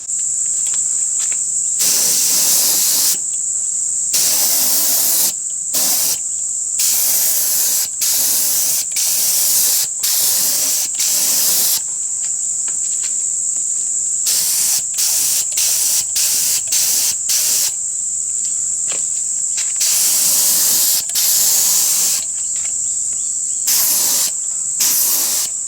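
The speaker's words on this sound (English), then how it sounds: "that first coat is a mist coat, so the idea there is that that will flash off and set relatively quickly but remain sticky" An aerosol can sprays a light mist coat of paint onto an art deco clock in repeated short and long bursts of close, loud hissing separated by brief silences, with no talking.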